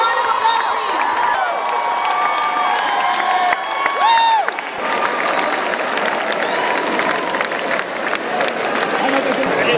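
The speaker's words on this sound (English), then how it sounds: "A huge round of applause" A large audience at a college talk by Chetan Bhagat bursts into loud, sustained applause with cheering and shouts, the clapping growing denser after a brief musical sting.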